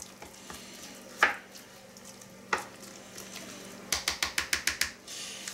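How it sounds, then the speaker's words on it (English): A spoon scrapes and knocks against a bowl of mashed potatoes while stirring, a few isolated clinks followed by a quick run of rhythmic taps, over a low steady hum. "I'll give them a stir."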